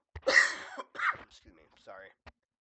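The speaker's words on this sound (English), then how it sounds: "excuse me, sorry, I have a bad cough" A person coughs several times in short, rough bursts, close to the microphone, with a throat-clearing sound mixed in and some voice between the coughs.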